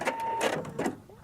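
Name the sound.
sewing machine stitching quilt piece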